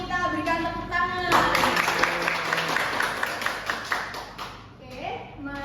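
A classroom gives a student group a round of applause: a burst of many hands clapping in a mid-sized room, lasting a few seconds after a teacher's speaking voice and fading as talk resumes.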